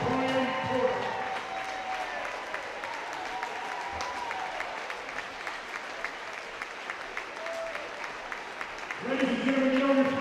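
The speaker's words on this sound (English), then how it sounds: "give this team a round of applause" A gym crowd claps steadily for a girls basketball team, sustained applause of many hands filling the space, with voices at the start and end of the clapping.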